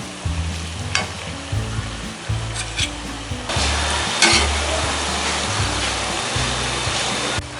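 Jackfruit fritters fry in hot oil in a pan over medium-low heat, a steady loud sizzle with occasional scraping stirs and clicks, and no voices.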